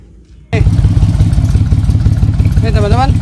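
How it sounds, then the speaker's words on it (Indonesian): A 1986 Daihatsu Hijet with a 1000cc three-cylinder engine, lowered and fitted with a modified exhaust, starts up and settles into a loud, throbbing, rough idle close by. A voice is briefly heard near the end. "Jadi suaranya agak menggelegar walaupun mesin 1000cc 3 silinder, faktor dari knalpot."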